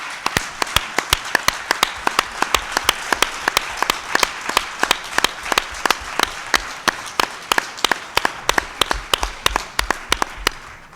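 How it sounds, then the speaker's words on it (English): A large audience applauds entrepreneurs at a conference closing session, with sustained clapping and sharp individual claps standing out in a loud, dense, even wash. "You deserve a big, big clap."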